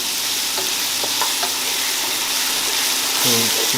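Ginger-garlic paste frying in a pan for chicken biryani, a steady broadband sizzle with a few light stirring knocks and a brief clatter near the end.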